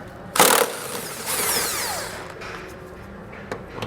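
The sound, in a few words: power tool removing 17mm head bolts from tow hook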